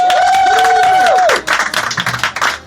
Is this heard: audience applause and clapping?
yes